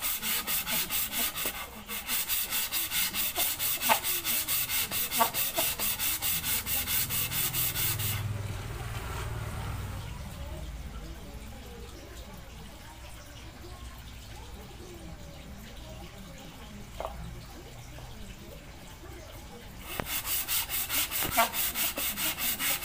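Rhythmic rasping strokes of sandpaper scrub against a Honda Vario Techno scooter engine block, close up, pausing midway while a voice talks quietly before the sanding resumes.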